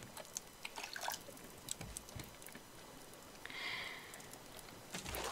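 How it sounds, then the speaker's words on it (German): Watering plants in the survival video game Raft, a soft pattering trickle of water with scattered drips, faint and steady at a moderate distance with no one talking. "wir gießen hier mal die Sachen"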